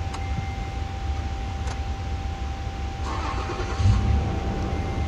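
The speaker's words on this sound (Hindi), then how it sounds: "गाड़ी स्टार्ट हो गई है" A car engine turns over and catches after ABS motor carbon brush replacement, then settles into a low idle with faint ticking; a steady electronic whine runs throughout.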